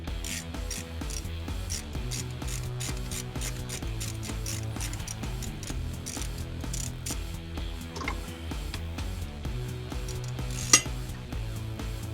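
Bolts being undone on a Ford Zephyr engine, a run of close metallic clicks, ratcheting and scraping taps over several seconds with one sharper clank near the end, no talk.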